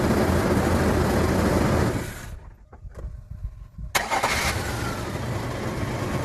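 Chevy S-10 with a 4.3 Vortec V6 cranking and firing after a new starter was fitted: steady running noise dies down, a short crank, then the engine catches with a loud burst and settles into a rough close idle.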